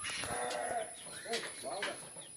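Farm animals bleat in short wavering calls, goats and cows kept on a rural farm, heard close alongside a person talking, with a couple of distinct bleats in the latter half.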